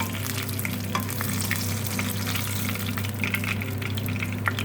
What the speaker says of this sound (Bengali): এইভাবে বাকি মাছগুলো আমি ভেজে নিচ্ছি।